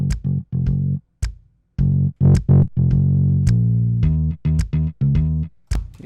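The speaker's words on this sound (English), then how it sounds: "We can try to do some distortion here as well." A synth line in FL Studio runs through the effector plugin's distortion, giving loud gritty, buzzing notes in choppy rhythmic stabs with sharp starts and short gaps, with no speech over it.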